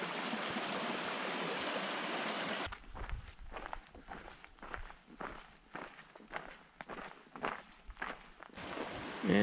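Jefferson Creek rushing loudly near the trail past Kenosha Pass at first, then giving way to a close, quiet series of footsteps crunching along a dirt trail, with the stream's flow returning at the end.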